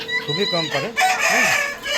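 Domestic chickens, kept alongside ducks and geese, cluck and call loudly and close by at dusk while gathering to go into their shed, with several short rising and falling cackles in quick succession.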